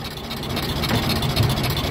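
A Ford Model T's 4-cylinder, 20-horsepower engine chugs steadily at close range, a low, even rumble throughout with no voices.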